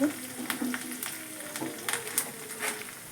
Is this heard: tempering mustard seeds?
yes